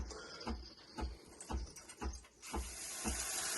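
A Breville Barista Express espresso machine's steam wand clicks at a steady rhythm of about two sharp ticks per second, close by over a constant background hiss.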